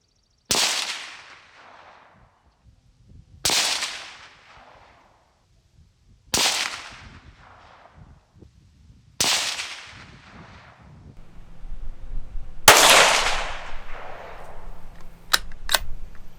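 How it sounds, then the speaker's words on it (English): Five loud, evenly spaced shots from a Ruger Precision Rimfire .22 mag rifle firing 45 grain FTX rounds, each crack trailing off in an outdoor echo, with rustling handling noise after the last shot. "So we're going to shoot it now"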